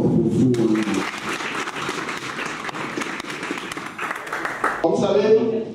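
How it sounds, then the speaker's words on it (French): A live audience at a youth training event breaks into sustained applause, a dense wash of clapping heard between stretches of someone speaking loudly over the crowd. "Est-ce que vous m'applaudissez très fort pour vous?"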